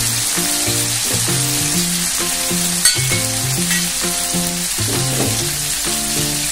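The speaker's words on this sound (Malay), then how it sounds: "akan masukkan pula cili kering yang telah siap dikisar" Ground dried chili, about three to four spoonfuls, sizzles steadily in hot oil in a pan for a Thai-style beef paprik dish, a constant loud hiss under stepping background music.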